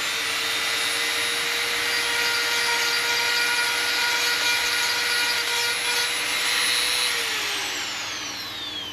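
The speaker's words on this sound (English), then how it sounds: "I'm going to take the Dremel, turn the power on." Dremel rotary tool grinding out and enlarging a hole in a plastic fishing lure mold, a loud steady high-pitched whine that runs continuously and winds down at the end.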